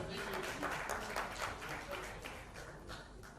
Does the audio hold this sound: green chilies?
no